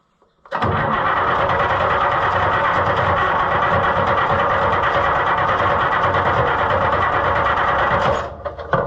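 Allis Chalmers 200 tractor engine cranking and catching, a loud steady diesel rumble running for about eight seconds before it cuts out near the end, with no talking.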